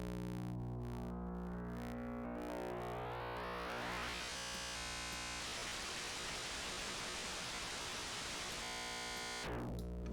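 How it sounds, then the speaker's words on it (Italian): Synthesized white noise produced by sonifying an image as a wavetable in TouchDesigner, emerging from a layered sweeping tone into a dense, steady hiss that holds for several seconds before cutting off sharply. "otteniamo il rumore bianco."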